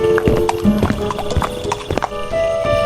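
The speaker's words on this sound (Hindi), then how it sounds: "राजकुमार अपने घोड़े पर सवार" A prince's horse clip-clops along in an animated Hindi cartoon: loud, close, uneven hoofbeats tap in quick succession throughout, mixed with soft background sounds and a faint neigh-like tone.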